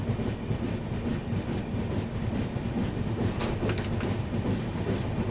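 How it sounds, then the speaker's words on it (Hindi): The Bihar Sampark Kranti Express, a New Delhi–Darbhanga train, rumbles past on an Indian rail route, its wheels clattering in a steady rhythmic roar that stays loud and continuous throughout. "ये सामने आ रही है जी हमारी बिहार संपर्क क्रांति एक्सप्रेस।"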